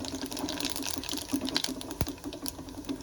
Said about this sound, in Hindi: तो फ्रेंड्स ऑयल गर्म हो गया है, अब इसमें मैं डालूँगी जीरा।